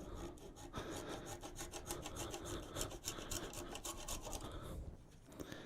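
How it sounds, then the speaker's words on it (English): A small hand saw rasps back and forth in fast, even strokes, close and fairly quiet, as it parts a turned wooden lidded box off the lathe. "I'll just take a small saw"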